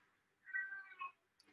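A cat meows once in the background, faint and brief, heard alone with no one talking over it.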